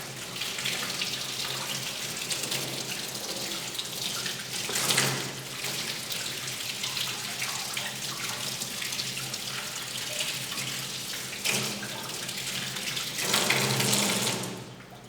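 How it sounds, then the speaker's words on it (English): Tap water runs steadily into a sink while scrubbed hands are rinsed, a continuous close splashing hiss with a few louder surges as the hands move under the stream. "now that we've done that again, we'll go back to rinse."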